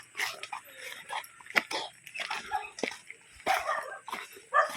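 Several dogs yip and bark in quick, irregular bursts outdoors along a creek path in Cavite, some barks sharper and nearer, others fainter, with brief whimpers mixed in.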